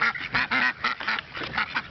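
Park ducks taking bread let out a run of quick, loud quacks close up, in short choppy bursts.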